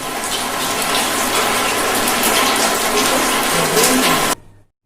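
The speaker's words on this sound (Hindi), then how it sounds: "बारिश हो रही है" Rain pours in a dense, steady hiss for over four seconds, loud and close, before stopping suddenly.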